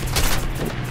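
Gunfire in War Thunder during an air arcade flight in a Ro.44 floatplane, a loud dense burst of shooting over the engine roar, lasting only about a second.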